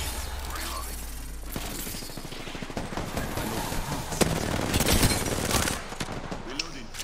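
Rapid automatic gunfire bursts in Apex Legends, loud and crackling with sharp shots scattered through the clip, mixed with game effects and occasional voices.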